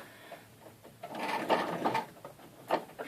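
A domestic sewing machine stitches a few quick bursts to lock a seam, its motor whirring in short mechanical runs with small clicks between them, close and moderately loud.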